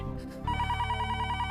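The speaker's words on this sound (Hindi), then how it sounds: "अरे, टप्पू के पापा ने सामने से फोन किया।" A telephone rings at home with a steady electronic ringtone pattern, loud and close, with a muffled lead-in for about half a second before the ring begins.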